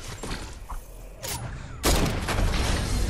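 Gunfire in the Fortnite video game: a few scattered shots, then a loud burst of rapid fire that fills the last second and a half, close and sharp.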